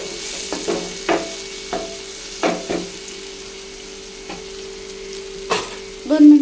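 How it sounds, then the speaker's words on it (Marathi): Sizzling onions frying in a pan for a Maharashtrian mutton curry, with tomatoes tipped in; steady close hiss broken by several sharp stirring and clattering bursts. "आता आपण टोमॅटो ऍड करूया।"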